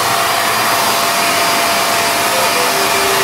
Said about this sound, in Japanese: このドライヤーがすごい大事